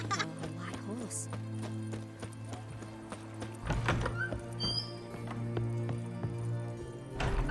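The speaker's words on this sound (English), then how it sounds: "A white horse." A white horse from The Witcher 3 clip-clops its hooves in a steady rhythm, set against a low musical drone with occasional thuds and brief voices nearby.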